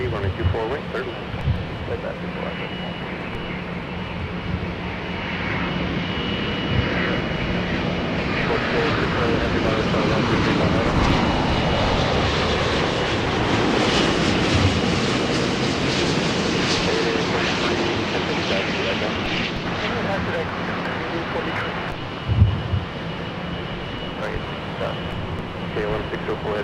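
Jet airliners take off and land on the north runway at LAX, heard as a distant, swelling engine roar that rises to a broad peak and then fades slowly. Radio chatter from air traffic control runs under the roar.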